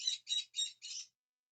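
Several birds calling outdoors in sunlight, four bright squawky chirps in a quick even series, close and clear, then silence.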